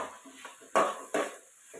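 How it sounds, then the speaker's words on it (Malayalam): Two sharp clinks of a spoon against a pan while ivy gourd stir-fry is stirred, set against a soft, steady kitchen background with faint scraping between the hits. "കോവയ്ക്ക മെഴുകുവരട്ടിക്കുള്ളതെല്ലാം ഇങ്ങനെ ഇളക്കി കൊടുത്തുകൊണ്ടിരിക്കുന്നു"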